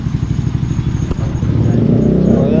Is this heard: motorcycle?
yes